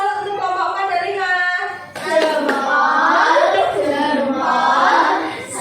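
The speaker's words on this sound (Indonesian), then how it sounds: "Berikan tepuk salut untuk kelompok 4 dan 5." A classroom of children doing a rhythmic 'tepuk salut' clap, sharp close hand claps breaking in after a stretch of chanting voices, with the class chanting on over and between the claps.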